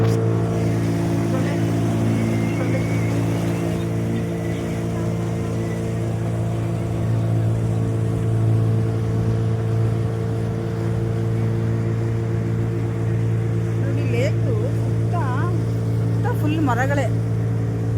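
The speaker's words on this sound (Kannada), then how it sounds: "ನಾವು ಬೋಟಲ್ಲಿ ಹೋಗ್ತಾ ವಿಡಿಯೋ ಮಾಡ್ತಾ ಇರೋದು ನಾನು." A boat motors across open water past tree-lined banks, its engine a loud, steady drone with a constant hum and rush of water. Faint chirping birds come through near the end.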